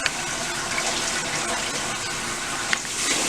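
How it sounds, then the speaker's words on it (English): A steady, close gush of water from a garden hose pours over a section of mixed-texture hair during a wash day, running continuously without a break and with no one talking. "So I just use the hose, and I just literally just wet each section one by one."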